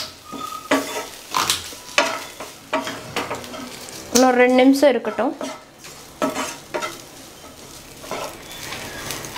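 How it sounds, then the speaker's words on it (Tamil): Minced mutton (kothu kari) frying and being stirred in a pan with salt, crackling sizzle under clattering spoon scrapes and pan knocks, with a brief spoken line partway through. "இப்போ இந்த ஸ்டேஜில் தேவையான அளவுக்கு உப்பு சேர்த்துட்டு மறுபடியும் ஃப்ரை பண்ணணும்."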